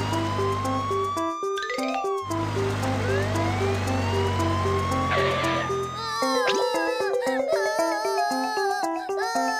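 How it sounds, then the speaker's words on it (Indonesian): Cartoon fire truck drives off with a wailing siren, cheerful music and playful sound effects, busy and loud throughout. "Mobil pemadam kebakaran, jalan."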